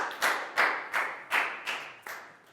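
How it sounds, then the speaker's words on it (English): Schoolchildren in a Year 4 English class clap for a classmate in five loose, reverberant bursts, each a ragged cluster of many hands, fairly close. "High five and a big round of applause for Pat, guys."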